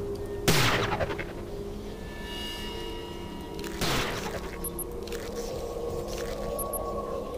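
Sniper gunfire in the video game Prey: two sharp, loud cracks a few seconds apart, each trailing into a long echoing decay over a humming background.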